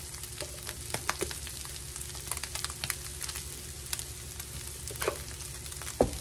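Meat frying in a pan over a stovetop flame, a steady close crackling sizzle broken by frequent sharp pops, the loudest near the end, with no talking.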